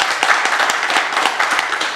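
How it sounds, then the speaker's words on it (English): A live audience applauds at an expert discussion on leprosy control, dense steady clapping sustained throughout at close range with no speech. "So huge round of applause for him actually."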